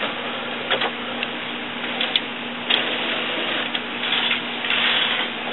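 An HP Designjet T120/T520 printer fitted with a continuous ink supply system runs its hose-travel cycle just after being plugged in, giving a steady close mechanical whir with occasional clicks and ticks, and no voices.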